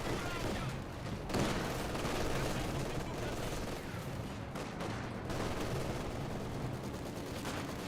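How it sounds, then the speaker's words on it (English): Maxim machine gun fire in the Company of Heroes 2 battlefield, dense and continuous bursts mixed with other gunfire and distant booms, loud and sustained throughout with a brief lull partway. "Maxim firing away."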